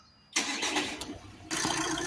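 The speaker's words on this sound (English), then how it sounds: "we'll start the engine up now." A VW Crafter 2.0 TDI diesel van with a restricted particulate filter cranks briefly and fires, its engine catching into a close, loud idle and then picking up slightly in a second surge.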